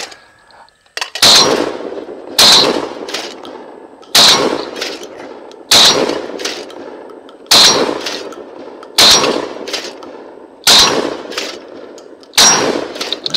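A Benelli Ethos 20 gauge shotgun fired at clay targets outdoors, with eight loud, sharp blasts spaced about every one and a half seconds, each trailing off in a ringing echo, and no talk.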